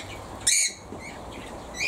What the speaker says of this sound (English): Due to that noisy bird you can hear.